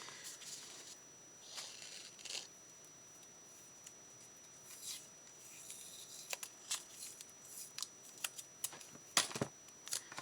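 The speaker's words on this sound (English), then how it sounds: "and we'll put some tape on the outside." Adhesive tape is pulled off the roll and pressed onto a paper pocket in a journaling project, giving quiet, close crackles and short rips that grow sharper toward the end.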